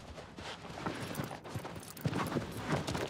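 A horse's hooves clip-clop in the video game Shadow of the Colossus, a steady run of fairly quiet hoofbeats with faint background ambience and no talking.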